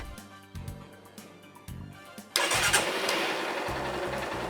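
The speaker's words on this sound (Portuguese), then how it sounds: "Ligue o motor." A motorcycle engine cranks in several short starter bursts, then catches and settles into a steady, loud idle that runs to the end, with no talking.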